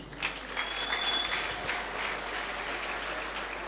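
Congregation at a large Ethiopian evangelical church gathering clapping together, a steady dense wash of applause with a few high ululation-like tones early on, sustained at even loudness throughout.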